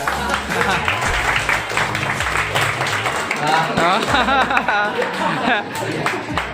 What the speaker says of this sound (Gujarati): હવે માહોલ તાળીઓથી ગડગડાટ રહી ગયો છે